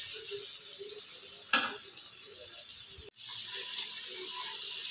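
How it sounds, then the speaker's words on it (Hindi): Chicken drumsticks frying a second time in hot oil give a steady, close sizzle, broken by a brief stirring clatter and a short dropout. "अब मैं इसको दोबारा फ्राई कर रही हूँ"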